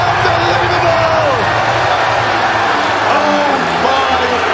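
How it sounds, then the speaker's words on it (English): Dense, loud crowd roar fills the arena after a cage fight finish at a Cage Warriors event, a steady wall of cheering and whooping with excited commentary over it throughout. "And the crowd goes wild."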